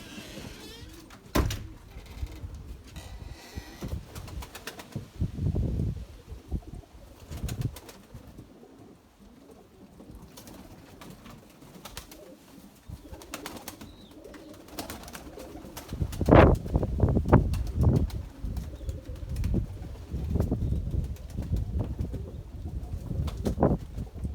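Erzurum white pigeons coo softly in their loft, with low murmuring calls, scattered bumps and a louder stretch of fluttering wings partway through.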